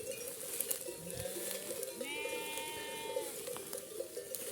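A sheep bleats a couple of times, one call drawn out, over a steady outdoor background of wind or rustling.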